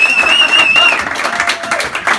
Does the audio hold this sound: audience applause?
yes